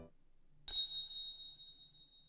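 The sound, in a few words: small bell falling to the ground, from video game Never 7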